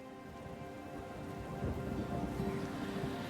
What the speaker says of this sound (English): Heavy rains and thunder welcomed us after a long summer vacation.